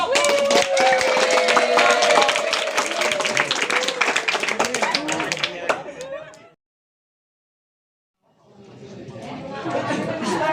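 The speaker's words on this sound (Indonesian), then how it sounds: "Tepuk tangan untuk" An audience at an Islamic jurisprudence and theology study session claps for about six seconds amid lively chatter, breaks off into brief silence, then a second burst of clapping and voices starts up.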